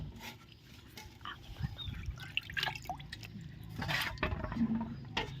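Bamboo shoots are rinsed in plain water for pickling, giving steady close splashing and dripping throughout, with faint background sounds.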